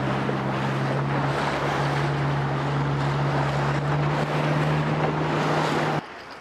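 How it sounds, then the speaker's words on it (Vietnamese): Big sea waves roar against the shore at Vinh Hy Bay in Ninh Thuan, a loud continuous wash mixed with wind buffeting and a steady low boat-engine hum, without speech. "Sóng la ngoài biển lớn, sóng nó đùng đùng đùng"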